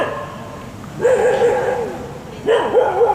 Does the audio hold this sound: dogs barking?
yes